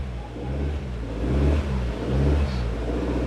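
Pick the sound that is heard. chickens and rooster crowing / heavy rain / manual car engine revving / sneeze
manual car engine revving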